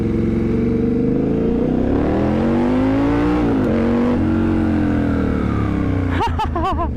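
A Triumph Scrambler 1200 motorcycle engine thrums loudly while riding, revving up and easing back with shifting pitch, and ends with a few quick sharp throttle blips.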